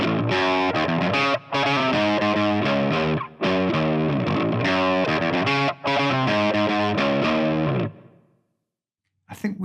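A fast electric guitar riff, distorted and chorused, pitch-shifted down six semitones by a virtual capo on a Fractal FM9, plays loud and choppy with short gaps between phrases before stopping, then a brief restart at the very end.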